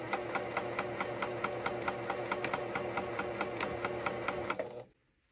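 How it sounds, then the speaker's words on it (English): A sewing machine stitches a pillow seam with a fast, even run of close mechanical clicks that stops abruptly near the end, leaving near silence. "And then you can just sew to the end and backstitch again."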